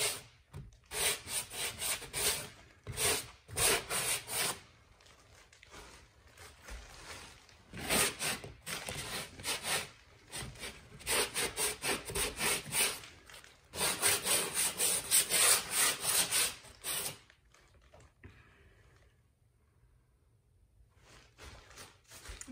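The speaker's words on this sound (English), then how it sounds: "I'm just going to smooth down the edges so it blends in a little bit better." Sandpaper rubs over the edges of a knockdown ceiling drywall patch in close, scratchy strokes, bursts of steady back-and-forth abrasion separated by short pauses, fading to quiet near the end.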